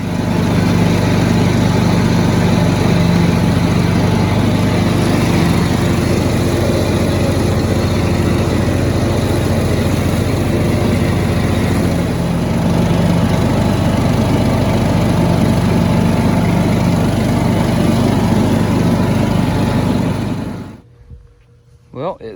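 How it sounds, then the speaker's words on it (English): An old John Deere lawn mower, freshly fitted with a repaired spindle and new bolts, runs loudly and steadily while mowing, a continuous close engine drone that cuts off abruptly near the end. "it seems to be mowing good"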